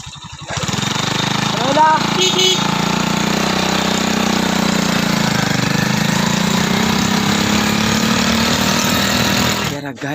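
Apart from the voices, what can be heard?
motorcycle engine running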